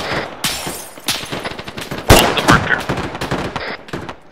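Gunfire during a military exercise, with rapid bursts and single cracks from nearby weapons, sharp and loud, with one especially heavy report near the middle.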